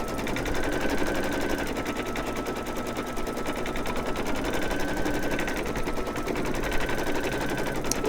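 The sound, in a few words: embroidery machine stitching an applique doll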